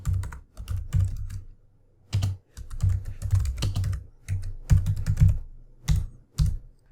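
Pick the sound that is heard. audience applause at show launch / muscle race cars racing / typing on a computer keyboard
typing on a computer keyboard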